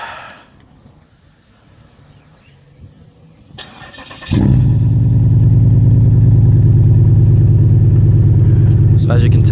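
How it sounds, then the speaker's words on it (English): Cold start of a 2007 Pontiac Grand Prix GXP with a custom Magnaflow exhaust: a quiet, faintly rustling stretch, then the starter catches and the engine fires into a loud, steady, deep idle that holds to the end. "this is gonna be a cold start because I haven't started it yet"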